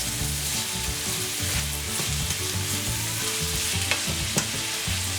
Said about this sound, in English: I don't want to say we're frying, but we're kind of frying.